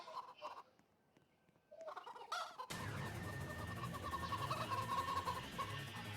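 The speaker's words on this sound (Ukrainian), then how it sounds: "Це курка." A Roblox game chicken clucks and gobbles, with scattered quieter game noises at first and then a loud, busy stretch of fowl calls over a dense digital background; no voices are heard.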